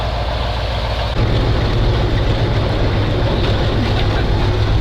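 A KrAZ 255 truck drives through a remote village, its engine a steady loud low drone that steps up in level after about a second and holds for the rest of the clip.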